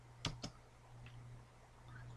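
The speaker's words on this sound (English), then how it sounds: "we just type in sudo" Two quick keystrokes on a computer keyboard as a command is entered on an Ubuntu server, crisp clicks early on over a steady low hum, followed by quiet room tone.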